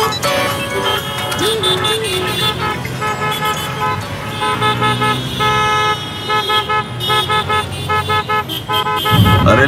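Car horns honking in heavy Indian city traffic, loud and close, with sustained blaring tones and overlapping short toots among the engine noise, ending in a cluster of quick repeated honks.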